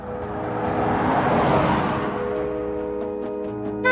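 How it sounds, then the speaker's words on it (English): A car moving through heavy downtown traffic, a steady broad roadway rumble with engine hum and passing vehicles throughout, swelling in the middle and continuing at a constant moderate level. "But there was a lot of traffic."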